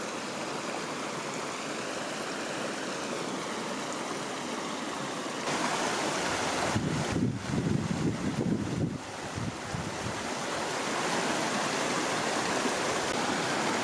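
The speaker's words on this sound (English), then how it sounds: "Beautiful creek here." A creek flowing through a forest on a Colorado mountain hike near San Luis Peak, a steady, close rush of water with gusts of wind buffeting the microphone partway through.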